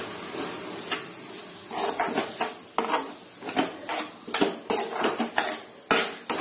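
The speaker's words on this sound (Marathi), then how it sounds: "आता याला छान मिक्स करून घेऊया।" Grated paneer being stirred with masala in a pan for paneer bhurji: a spatula clatters and scrapes against the metal in quick, irregular strokes over a soft background hiss, with no talking.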